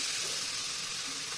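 Eggplant hitting a hot pan with spices while making begun bhorta gives a steady, bright sizzling hiss that runs unbroken and fairly loud, with no talking over it.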